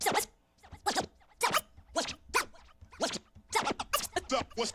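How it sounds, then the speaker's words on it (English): Rapid DJ turntable slice scratches cut back and forth in short, sharp bursts, a steady choppy rhythm of swishing slices. "I'm just doing a slice and a slice on the other sound."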